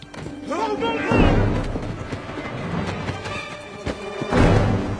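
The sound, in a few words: grenade explosion in a film scene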